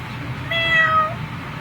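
A person imitates a cat with a single drawn-out meow, close and clear over faint room noise.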